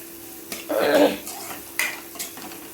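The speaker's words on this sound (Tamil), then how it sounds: "போட்டு நல்லா பரட்டி எடுத்துக்கலாம்" Mutton liver and spices are stir-fried in a pan, with a spatula scraping and stirring in a few short strokes over a faint sizzle, close and moderately loud, with no voices.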